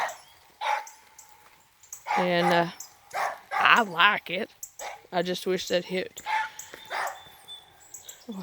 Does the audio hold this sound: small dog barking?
yes